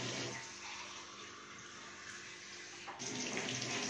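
Water poured into a cooking pot, a soft, steady splashing stream that runs for a few seconds, fairly quiet and heard alone.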